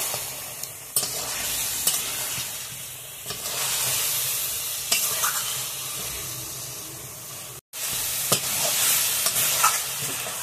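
A spoon stirs chicken curry in a pan, scraping and turning the pieces with repeated soft strokes over a steady sizzle and hiss of frying, close and moderately loud.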